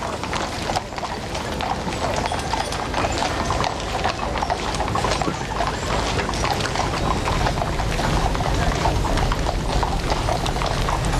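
Massed horses' hooves of the King's Troop Royal Horse Artillery clip-clop steadily on the road during a funeral procession, a continuous dense patter of many hooves with crowd and ambient noise around.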